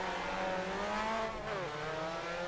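A Mazda MX-5 engine accelerates on the Imola circuit in the video game Assetto Corsa, a loud, steady rising drone with harmonics climbing in pitch, briefly dipping with a gear change and then rising again.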